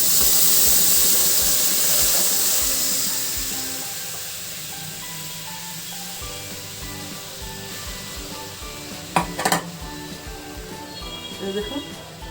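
Grated coconut stirred into melted jaggery in a pan for patishapta filling, a hissing sizzle that fades after the first few seconds, then quieter cooking with a few sharp clatters of the utensil against the pan.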